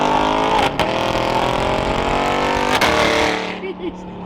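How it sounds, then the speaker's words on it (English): A sports car engine revs hard and loud up close, with sharp throttle blips between gear changes before the roar fades toward the end. "The downshifts are crazy"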